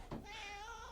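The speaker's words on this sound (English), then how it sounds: "Oh, the kitty." A cat meows once, a long, drawn-out, wavering call set against steady background noise inside a trailer, with no talking.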